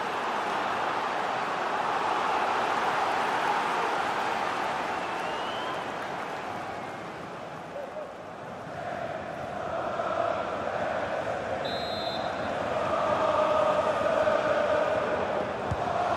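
Stadium crowd in the FC 24 football video game, a dense continuous roar with applause-like wash that swells and dips slightly and builds again toward the end.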